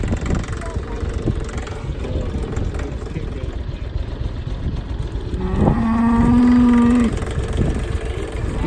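Cattle on a ranch, one cow giving a long, loud moo midway through, with engine rumble and people talking in the background.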